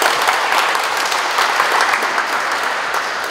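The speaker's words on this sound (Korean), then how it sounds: "예, 박수 부탁드립니다." Audience applause fills a ceremony hall at a startup park vision declaration and agreement signing, a dense, steady clapping wash that holds loud and even from start to finish, with no voices over it.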